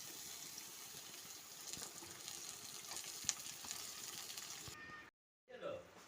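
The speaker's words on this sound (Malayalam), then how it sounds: "ഇനി നമുക്ക് ഉള്ളി ഇട്ട് കൊടുക്കാം" Onions sizzle as they are added to a pan of oil while Kerala-style beef peralan is cooked. A steady, crackling frying hiss runs throughout, then briefly cuts out before resuming.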